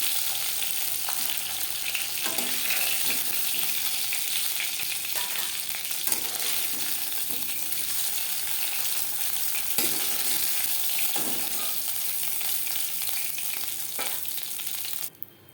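Oil left from frying shing fish sizzles in a pan, a continuous loud crackle with occasional sharper pops that stops abruptly at the end.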